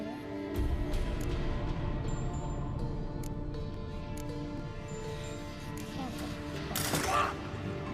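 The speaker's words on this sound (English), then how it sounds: "Open the valves." Valves being opened in The Witcher 3: metallic clanks and ratcheting, grinding mechanism sounds at moderate volume, with a few sharp knocks and a louder hissing burst near the end, a voice faintly present.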